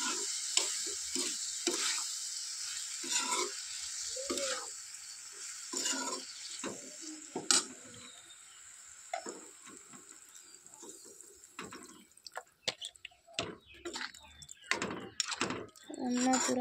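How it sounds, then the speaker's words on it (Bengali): Food is stirred in a pan with a soft sizzle underneath, scraping and clinking in irregular bursts, followed by water being poured in, with someone speaking intermittently over the cooking sounds. "নাড়াচাড়া করে পরিমাণ মতো জল দেব।"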